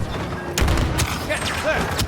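Turret fire in the video game Star Wars Battlefront II, a rapid series of blaster shots and booms amid battle noise, loud and close, with voices talking underneath.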